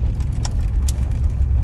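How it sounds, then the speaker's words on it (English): Steady low rumbling airflow from the air conditioning inside a parked car, a continuous whooshing blower sound with a couple of faint clicks over it. "That's your AC still blowing."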